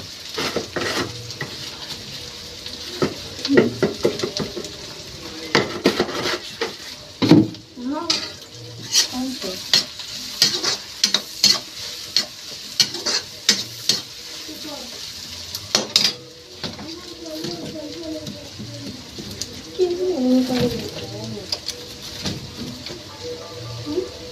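Chopped onions with a pinch of salt fry in a pan in a village kitchen in India, stirred with close, repeated metal scrapes and clanks over a steady sizzle, with a faint voice now and then.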